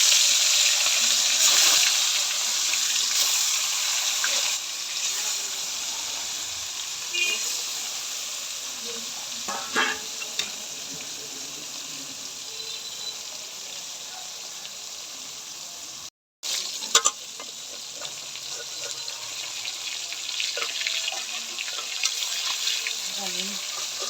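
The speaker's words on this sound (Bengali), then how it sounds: "তেল গরম হয়ে গেছে, মাছগুলো আমি এবার তেলে দিয়ে দিব" Fish, carp, fry in hot oil in a home kitchen, giving a continuous broad sizzle with occasional sharper crackles and a brief break, while a voice talks faintly beneath.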